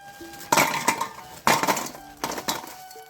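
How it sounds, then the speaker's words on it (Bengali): A spoon stirring tea in a cup gives out a few distinct clinks and taps in three short clusters, bright and close, with quiet gaps between. "আজকে কিন্তু চা নাড়ার জন্য চামচ নিয়ে এসেছি"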